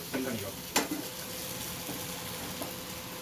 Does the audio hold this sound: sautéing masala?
yes